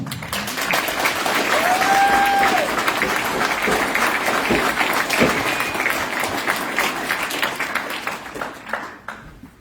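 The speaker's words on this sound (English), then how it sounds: "I think we should give him a round of applause." A room full of people at a race bib draw gives a long round of applause for a racer. Loud, dense clapping holds steady for several seconds, a few whistles cut through, and then it fades out.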